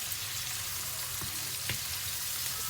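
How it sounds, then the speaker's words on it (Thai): Faint, steady sizzling of garlic and coriander root frying in hot oil in a pan, with a couple of soft clicks from stirring. "ตั้งกระทะ ใส่น้ำมัน ร้อนๆแล้วเขาใส่เข้าไปในนี่รากผักชีกับกระเทียม"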